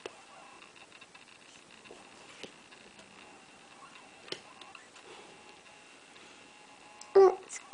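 A big clock in a Mickey Mouse cartoon ticks faintly with sparse, light ticks, then gives a louder knock near the end.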